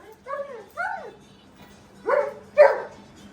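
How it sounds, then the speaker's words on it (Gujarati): Lucky, a dog at a horse farm, barks aggressively in four sharp, close bursts, two quick ones and then two more after a short pause, with a low steady hum behind. "બહાર બીજા જો કૂતરા જોઈને લક્કી થોડોક એગ્રેસિવ થઈ ગયો."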